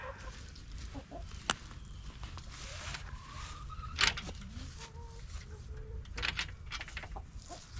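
Older laying hens cluck and murmur in a coop the day after being moved in, a steady chorus of close clucks with occasional sharper calls over constant low barnyard noise.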